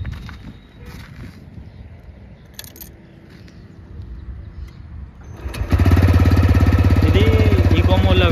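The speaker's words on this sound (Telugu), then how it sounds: "ఇప్పుడు దీని ఎగ్జాస్ట్ సౌండ్ అయితే విందాం మనం" A TVS Raider 125 motorcycle sits in eco mode after a quiet stretch of faint background noise, then its exhaust cuts in abruptly with a loud, steady, close idle rumble.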